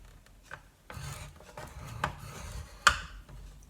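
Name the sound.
scoring board for wax melt box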